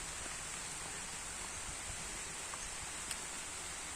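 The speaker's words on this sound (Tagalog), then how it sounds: "Umuulan na." Rain falling steadily outdoors on rural farmland, a soft, even hiss with no talking, faint and continuous throughout.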